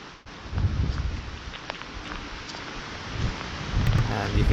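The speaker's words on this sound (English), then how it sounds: "And you can hear the rain getting up there and heavier and more persistent on St. Lucie" Heavy rain from Hurricane Matthew on St. Lucie, a soft steady hiss of rainfall with low gusty rumble building slightly toward the end, fairly faint and continuous.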